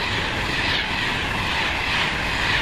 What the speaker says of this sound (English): Now leaving the 1315 London Midland service from London Euston to Northampton